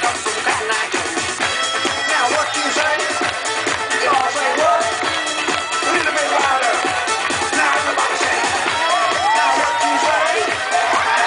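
Audience at an outdoor lumberjack show cheering and whooping continuously, a dense roar of many voices with shouts rising and falling at steady loudness.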